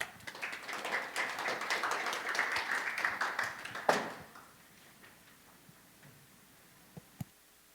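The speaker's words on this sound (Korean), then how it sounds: "큰 박수 부탁드리겠습니다." Audience applause at an XR industry conference, moderately distant clapping for about four seconds that fades out, followed by a few isolated taps in near quiet.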